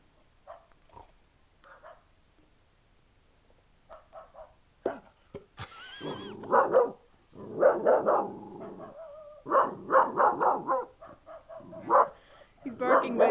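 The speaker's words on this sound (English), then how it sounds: "That is definitely the adult bark in him." Young dog Scout barking in repeated sharp bursts, fairly close and loud, mixed with people talking nearby throughout.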